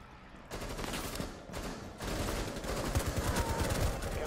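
Video-game gunfire in a round where the player is under fire near a broken window, a loud fusillade that thickens after the first seconds into continuous overlapping shots.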